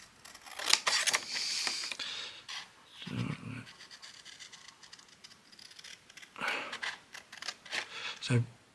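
Scissors snipping around a paper craft figure of a gentleman with a luggage ticket, a few close, crisp cuts in short bursts with quiet gaps between them.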